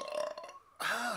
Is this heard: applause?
no